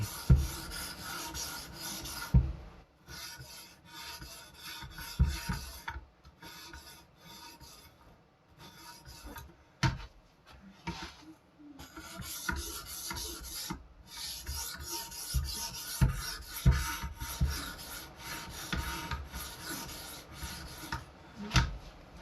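A carving knife is sharpened on a 650 grit diamond matrix stone, with light rasping push strokes broken by short pauses and occasional clicks, close and fairly quiet, no speech.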